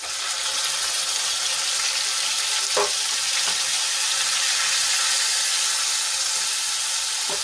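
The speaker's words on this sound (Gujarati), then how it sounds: "ડુંગળીને આપણે સરસ રીતે સાંતળી લઈશું" Two grated onions sauté in hot oil with ginger, garlic and chili paste, giving a loud, steady sizzle with a few faint stirring scrapes and no voices.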